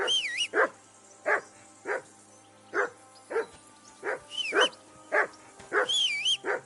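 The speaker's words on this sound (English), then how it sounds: "Call that dog to heel!" Dog barking in the video game Kingdom Come: Deliverance II: a dozen punchy, regularly spaced barks sounding close and loud, while a few high, warbling tones chirp faintly above them.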